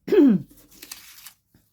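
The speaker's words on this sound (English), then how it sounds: "I keep having to clear my throat" A person clears their throat once, a short close guttural rasp followed by faint breathy rustling, with no speech.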